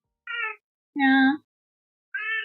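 A cat meows three times close by, clear separate calls with a longer, stronger middle one and silence in between.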